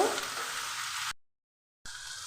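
Sliced onions frying in oil give a steady, close sizzle for about a second, then a full silence, after which the frying hiss comes back just as loudly.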